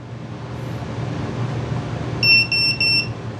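A WingSmith drone beeper sounds a run of four sharp, loud electronic beeps in quick even succession over a low steady hum after a quiet stretch.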